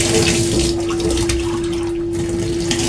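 Running water pours steadily from a tap over a steel sink during rinsing, a loud, constant splashing rush with a faint tonal hum beneath it.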